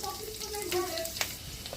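Cumin seeds, curry leaves and garlic sizzling in hot oil for khichdi, a soft close crackle with a few sharper pops, while a faint voice talks over it.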